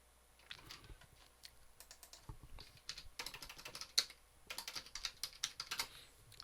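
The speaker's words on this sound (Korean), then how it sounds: "다시 컨트롤 F5번 눌러서 실행" Computer keyboard being typed on, with Ctrl+F5 pressed to run an Angular project: quiet, close clicking keystrokes in irregular bursts that pick up pace toward the end.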